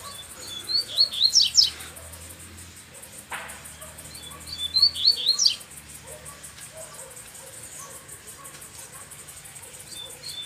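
A caged double-collared seedeater (coleiro) gives two bursts of bright, rapid chirping trills, loud and close, separated by quieter gaps with soft background rustle and no voices.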